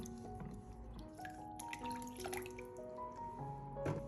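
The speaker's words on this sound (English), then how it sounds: "Next, change the water and rinse again to ensure the eggs are completely clean." Water drips and trickles while eggs are rinsed at a sink, giving soft, irregular splashes and dribbles that stay close but faint, with no voices.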